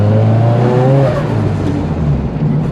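Forged SR20 engine in a Nissan S15 drift car revving hard, a loud, close, sustained roar whose pitch rises and then falls away, with no voices over it.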